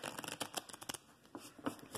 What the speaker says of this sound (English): I hope you guys can see me shuffling on camera